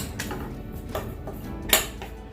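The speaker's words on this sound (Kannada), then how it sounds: "ಈಗ ಪೌಡರ್ನ ಇದಕ್ಕೆ ಹಾಕಿ ಮಿಕ್ಸ್ ಮಾಡ್ತೀನಿ" A spoon clinks and scrapes in a pan as dry fruit powder is stirred into melted jaggery for laddu, giving a few sharp, close metallic knocks with one louder clank near the end.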